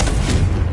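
Confringo spell explosion in the Hogwarts Legacy game: a close, punchy boom with rumbling low end and scattered crackle, lasting under a second, heard alone without talk.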